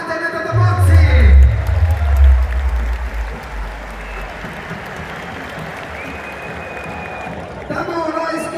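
A crowd at a fight-night event applauds and cheers loudly and continuously, with a booming amplified announcer voice at the start that returns as the clapping fades near the end.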